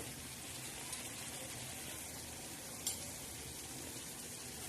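Potatoes cook in a pan on a gas stove, giving a faint, steady bubbling and sizzling hiss with a couple of soft clinks and no talk.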